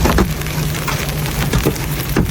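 Hail pelting down during a storm in the Bearden, West Knoxville and Karns areas of Tennessee, a loud dense patter of hard impacts with sharper individual hits scattered throughout, no voices.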